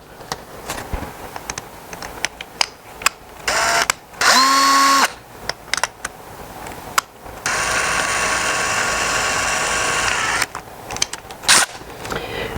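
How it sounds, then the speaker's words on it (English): A power drill bores a concealed hinge hole in a cabinet door, sounding as one short whining burst followed by a longer steady grinding run, close and loud, set between scattered clicks and handling noises. "we put it in here and we lock it in place, but first I'm going to put it in a drill"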